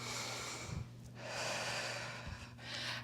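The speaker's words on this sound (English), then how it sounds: "Think about breathing out into the sides of your ribs" Audible breaths from a standing Pilates workout, drawn in and pushed out into the ribs, come as soft, airy exhalations in a slow rhythm, with a short sniff between them and nobody speaking.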